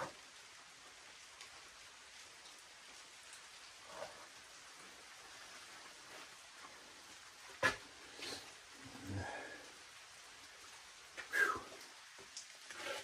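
Light rain begins falling again outdoors, a soft, steady patter with a few sharper drops or taps rising briefly above the quiet hiss.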